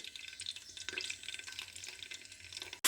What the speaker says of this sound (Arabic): باش نقليو القرون الفلفل نتاعنا